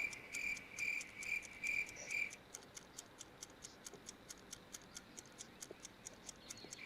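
Steady rhythmic cricket chirping: a few longer trilled bursts, then a regular series of sharp, even clicks, fairly faint and alone.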